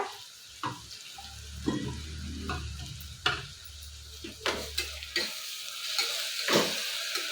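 Ginger and garlic fry and sizzle in a pan while a spoon stirs them, giving a steady low hiss broken by sharp scraping clacks.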